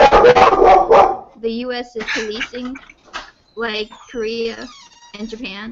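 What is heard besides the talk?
dog barking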